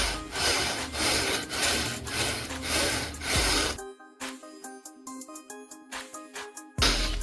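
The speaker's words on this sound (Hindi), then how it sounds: "इस तरीके से हम रेगमाल को गरारी के ऊपर लगाएंगे और इस तरीके से मशीन को घुमाएंगे" Sandpaper pressed against a sewing machine's gear while the machine is turned by hand to cure play and noise, making loud rhythmic rasping strokes close up, followed by quieter tonal mechanical sounds.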